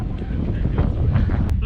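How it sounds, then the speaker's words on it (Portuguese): Strong wind buffets a microphone high on a sailboat mast, a continuous rough roar with gusty swells, while a voice speaks briefly under the noise. "tá ventando pra caralho aqui"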